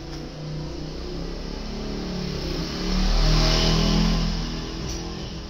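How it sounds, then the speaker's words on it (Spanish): Vehicle engines pass outside a house, a steady rumbling traffic noise that swells as one accelerates past in the middle, then fades slightly, with no talk. "Disculpen la bulla de los motores, los vehículos."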